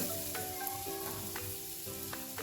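Amaranth leaves fry in a hot pan, giving a steady, close sizzle with faint stirring scrapes throughout.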